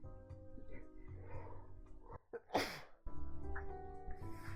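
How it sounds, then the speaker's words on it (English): One close sneeze bursts out midway, with a short breathy build-up, between stretches of someone talking over a soft game backdrop. "Hang on, I'm gonna sneeze."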